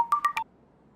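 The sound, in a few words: phone ringing with incoming call from son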